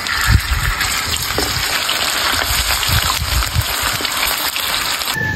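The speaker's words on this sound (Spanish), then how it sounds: "le vamos a echar la carne para que se dore" Meat dropped into hot oil in a frying pan over a wood-fired stove, sizzling and hissing loudly and steadily throughout with a few crackling pops.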